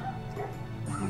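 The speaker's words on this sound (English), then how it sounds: "I'm not sure if you guys can hear a few dogs barking outside." Dogs barking and yipping outside, a brief flurry of overlapping yelps heard over continuous background music.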